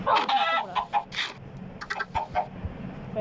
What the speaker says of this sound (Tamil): ஒரு சர்ப்ரைஸ் கோழியை பிடிச்சிட்டேன்